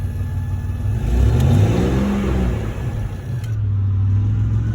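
A full-size remote-controlled car's engine revs up on the gas pedal, a steady mid-pitched roar that swells and holds close by, with no talk over it.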